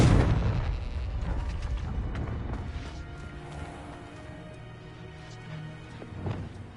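Confringo fire spell blast in Hogwarts Legacy, a loud booming burst at the start that decays into a rumbling fiery tail, with a smaller thump near the end over a busy game background.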